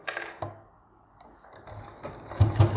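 A sewing machine running a straight seam along a salwar hem, heard as short bursts of stitching with brief pauses between them, getting louder and busier toward the end.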